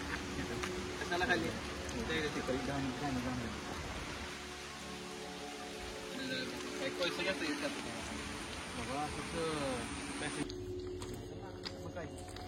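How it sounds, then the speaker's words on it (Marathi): Heavy rain at Dudhsagar falls as a constant, fairly soft wash of noise behind background talk, with a faint rumble underneath the whole time. "पाऊस भरपूर आहे."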